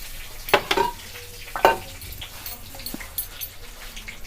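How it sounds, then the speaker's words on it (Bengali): A bay leaf tempering sizzles in hot oil left from frying fish, a continuous close crackle with a few sharper pops and clatters near the start, while a dog whimpers briefly in the background. "তেজপাতার ফোড়নটা দিয়ে দেবো।"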